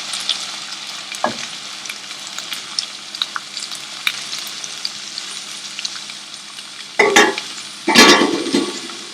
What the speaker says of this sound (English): So these will sizzle because it has some water.